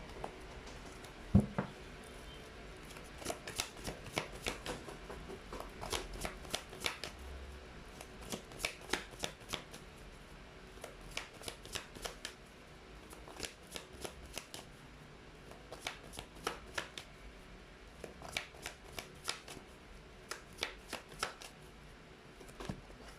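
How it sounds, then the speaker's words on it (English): Tarot deck being shuffled and cards pulled: repeated crisp riffling and flicking of card stock in quick bursts with brief pauses, close and fairly quiet, no talking. "let's try to pull up more cards."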